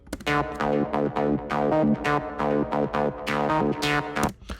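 A dry techno music loop plays with steady rhythmic plucked and struck notes, a repeating pattern of about four and a half seconds with no added effects.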